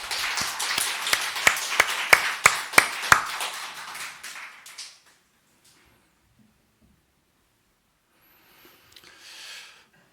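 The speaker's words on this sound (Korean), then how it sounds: "박수 한번 올려볼까요?" A church congregation claps at a worship service, sharp hand claps in quick succession that fade to silence, followed later by a brief soft rustle.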